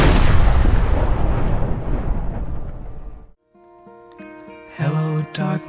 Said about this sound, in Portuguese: O episódio termina então com um disparo ecoando na escuridão